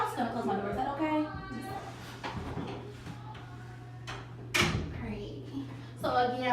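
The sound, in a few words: office door being closed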